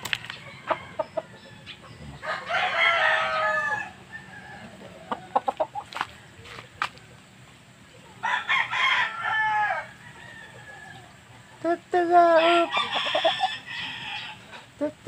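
Talisayan rooster crowing in three loud, drawn-out bursts close by, separated by quieter stretches with faint clucking and rustling.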